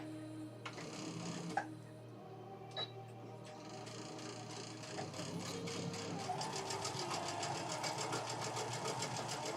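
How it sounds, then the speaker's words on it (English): A sewing machine runs at a steady medium pace, its rapid mechanical ticking speeding up slightly toward the end, with a low hum beneath. "So she's got it on medium speed for me."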